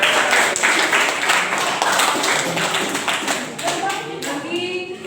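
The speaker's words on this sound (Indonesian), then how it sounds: "Tepuk tangan dulu buat Dani." Classroom applause for a top student, a brief burst of clapping from a group of students fairly close by, with speech and other room noise mixed in as the clapping fades toward the end.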